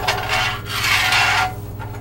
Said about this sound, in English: you want to make sure that you scrape up all of those lovely sausage bits that are on the bottom of your pan